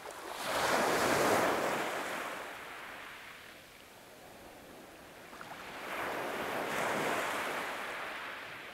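Ocean waves wash onto a beach, two broad swells rising and fading over several seconds with steady wind noise underneath and no voices.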